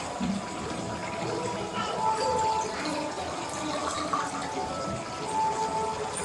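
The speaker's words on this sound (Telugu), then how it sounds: "ఇంకా కొన్ని వాటర్ వేసేసుకొని," Water poured into a cooking pot for ragi sangati gravy, a continuous rushing splash that stays steady and close throughout with no speech.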